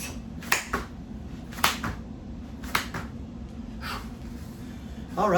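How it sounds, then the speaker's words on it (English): Several sharp, isolated claps from clapping push-ups ring out about a second apart, with quiet breathing and rustling between them. "I clap and go back down."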